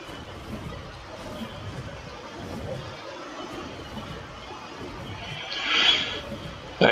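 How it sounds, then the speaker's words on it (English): A baby horse in the video game ARK gives a short, fairly loud whinny near the end of a quiet stretch of low rustling ambience. "Go take care of this baby horse."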